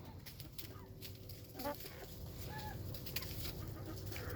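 Backyard chickens cluck softly and steadily in an outdoor yard, with faint, intermittent calls that stay low under a constant background of ambient noise.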